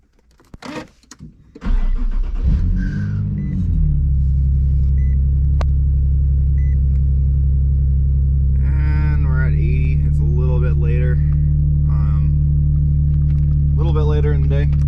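A Nissan 370Z engine cranks and starts, then settles into a loud steady idle close by, with someone talking over the rumble throughout.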